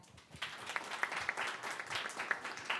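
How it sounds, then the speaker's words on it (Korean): Audience at a Korean digital healthcare project ceremony claps for a Philips executive taking the stage, a faint, fairly sparse patter of hands with a few sharper claps standing out. "여러분 박수 보내주시기 바랍니다"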